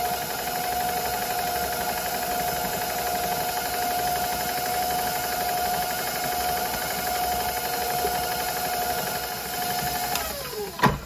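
A stand mixer runs steadily with a paddle through pound cake batter made with sour cream, a constant moderate motor whine and hum that winds down at the end.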